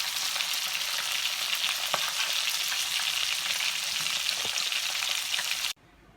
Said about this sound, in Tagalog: after ko pong ma-fried ang ating isda